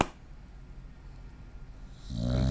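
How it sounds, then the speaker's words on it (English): A sleeping dog snores loudly, with soft, raspy breathing at first, then a louder, rougher snore building toward the end. "This is another funny video of a dog sleeping and snoring loud."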